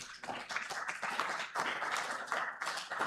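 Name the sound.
audience applause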